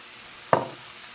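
Ginger drops into a hot pan for a chicken breast sauce and gives one short, sharp sizzle that fades within a fraction of a second, close and clear with no talking.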